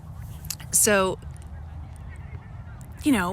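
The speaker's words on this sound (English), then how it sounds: "there's two seagulls on the lake" Two loud, close, honking bird calls ring out over a lake, the first near the start and the second near the end, each a short harsh cry over a low steady background hum.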